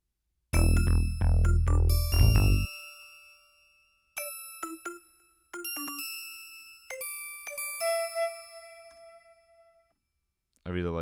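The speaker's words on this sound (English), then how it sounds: "I really like using these chime effects" Synthesized chime effects made in Ableton ring out: a few bright struck tones over a low thump, then sparse separate dings with long decays and gaps of silence between them.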